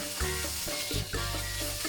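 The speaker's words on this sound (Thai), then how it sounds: "ผัดให้ปลาแซลมอนสุกค่ะ" Diced salmon stir-frying with garlic in a hot pan for fried rice, a steady sizzle with scraping and stirring clatter from a spatula, close up, no talking.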